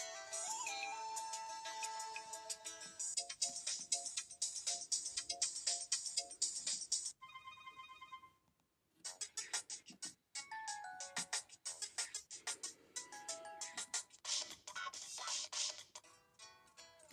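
An HTC Magic phone plays its ringtones, bright melodic electronic tones in repeating phrases, with a short pause midway before another tune starts. No one talks.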